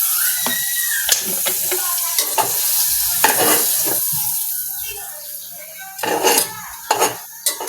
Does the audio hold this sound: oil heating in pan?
yes